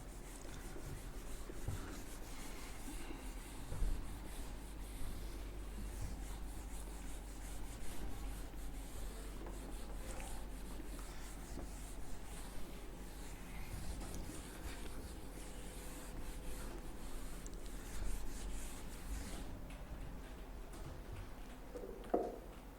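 A board being rubbed clean of writing, a soft, steady scrubbing rasp up close over a low hum, fairly quiet throughout and with no talking.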